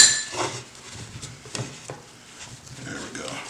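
A seasoned spatchcock Cornish hen is flipped in a pan, giving a few soft thumps and light clatters of handling close by, quiet between them.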